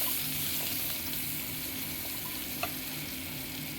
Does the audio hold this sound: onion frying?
yes